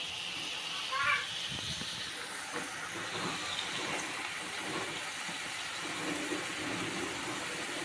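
Ground masala paste roasting in a pan for a fish dish, a continuous close hissing sizzle with faint scraping, a voice talking over it.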